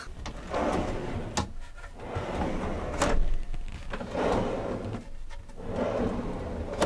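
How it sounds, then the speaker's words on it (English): Drawer sliding out and a floor panel pulled free in a camper van build, giving a series of short scraping slides and soft knocks, close and moderately loud, with no talking. "Access to the 2 shower drains located under that floor is as easy as pulling out a drawer and slide the floor panel out."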